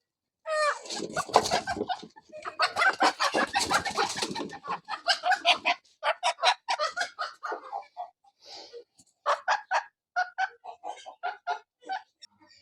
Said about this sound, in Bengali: এই যে মুরগিগুলা এগুলো হলো ভ্যানথাম